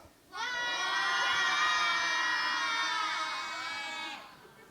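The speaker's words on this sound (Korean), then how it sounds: "함성을 지르는 거예요" A church congregation lets out a single sustained loud shout of many voices in unison, rising sharply, holding for about four seconds, then fading out.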